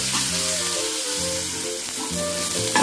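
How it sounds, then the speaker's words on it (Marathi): Onions fry in a pan, a continuous close sizzle and crackle with occasional stirring scrapes, while music with steady tones plays underneath. "कांदा आपला छान शिजतोय अजून, तर त्याला अजून आपण गुलाबी रंग येईपर्यंत परतून घ्यायचा आहे."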